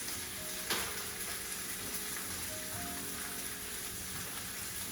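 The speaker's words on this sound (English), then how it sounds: "So we're gonna make a nice, beautiful sear." Beef short ribs sear in a hot pan with a steady, moderately loud crackling sizzle that runs throughout, plus one sharp spatter near the start.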